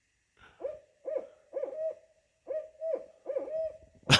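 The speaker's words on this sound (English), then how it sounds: "An owl dive bombed me." Owl on the Appalachian Trail gives six or seven low, evenly spaced hoots in a steady rhythm, close and distinct against a quiet background, ending with a sudden sharp noise.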